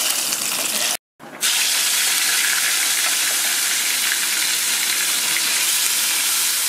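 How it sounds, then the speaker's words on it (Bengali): Koi fish sizzles in hot oil with a steady bright hissing crackle, close and continuous, broken once by a short silent gap before the frying resumes. "এই দেখুন মাছটা হালকা ভেজে নিয়েছি, তুলে দিচ্ছি।"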